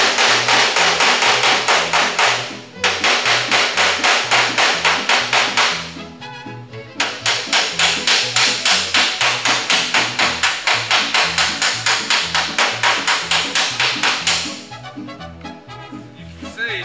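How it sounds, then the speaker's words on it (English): Rapid, steady metal hammer blows ring out in long runs with brief pauses, loud and close, as a hammer and dolly pound dents out of a 1956 Cadillac body panel. "I'm going to take my hammer and my dolly, okay? I'm going to go ahead and pound those out."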